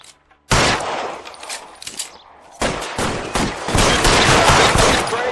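Rapid gunfire in the video game LA Noire, with two dense bursts of repeated shots. The first is loud and close, then a short lull, then a longer, heavier volley that runs to the end.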